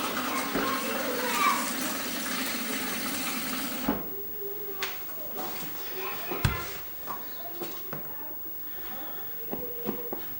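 Water pours into a plastic yoghurt-making container in a kitchen, a steady rushing fill for about four seconds, then stops, followed by scattered small clinks and handling sounds.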